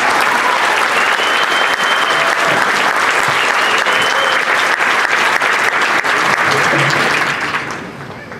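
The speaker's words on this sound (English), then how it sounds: "Let's give them a round of applause and congratulations." Dense, sustained applause from a large audience at a college fall commencement ceremony, loud and steady throughout before fading near the end.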